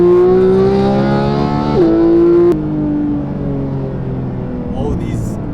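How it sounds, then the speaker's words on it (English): A Porsche 911 991.2 GT3 with Akrapovic exhaust and PDK gearbox, its engine howl rising under hard acceleration, then a fast upshift around the middle and a second climb, loud and close from inside the cabin. "with this super loud engine and modified Akrapovic exhaust"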